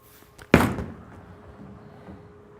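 A Hammer Black Pearl urethane bowling ball is released onto the lane with one loud, sharp thud, then rolls away in a low, fading rumble.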